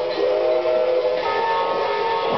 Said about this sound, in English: There's a train. Choo choo. Choo choo.